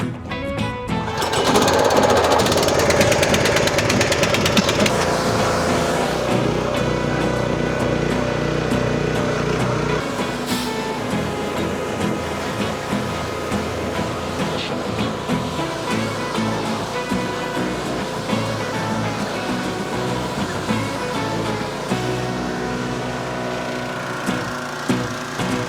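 Pressure washer spraying down a go-kart, a loud continuous hissing rush of water with a rattling pump drone beneath, close and steady, shifting slightly as the spray hits different parts.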